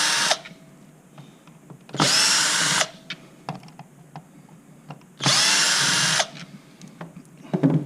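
A power drill removes screws from a top box shell in two loud whirring bursts of about a second each, close by, with clicks and handling noise between them.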